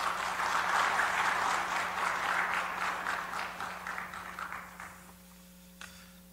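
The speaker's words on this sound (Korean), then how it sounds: "박수 부탁드립니다" Applause in a church forum hall greeting a pastor invited up as panelist, with many hands clapping that swell early, then thin out and fade to near silence with a faint hum beneath.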